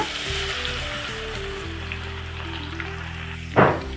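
Garlic paste and cumin seeds sizzle steadily in hot oil with a low hum underneath, then a sharp burst of crackling spatter erupts near the end.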